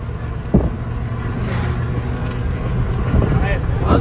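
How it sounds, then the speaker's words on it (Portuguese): Road car driving along a highway, its engine and tire noise a steady close rumble throughout, with occasional thumps and people talking over it. "Olha o zoado do carro."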